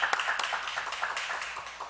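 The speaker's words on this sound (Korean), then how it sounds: "귀한 찬양 주신 우리 신현승 권사님께 다시 한번 박수로" Church congregation clapping in thanks after a worship song at a Sunday service, a dense patter of many hands sustained through the whole stretch without talk.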